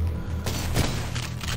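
Gunshots in the retro shooter Cultic, loud booming blasts in quick succession, with a heavy thump near the middle amid dense game noise.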